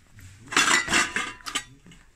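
Pressed-glass dishes clink and clatter against each other in a few close, bright bursts at a German flea market, with handling noise between them and no talking.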